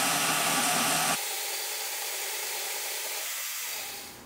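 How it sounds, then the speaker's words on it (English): A portable bandsaw with a Harbor Freight blade finishes cutting 3/16 inch 1084 steel, a loud whirring whine that drops abruptly to a quieter hum as the cut ends, then fades toward silence, no voices. "That porta bandsaw went through this 3/16 inch 1084 really quick, really easy, even with that Harbor Freight blade"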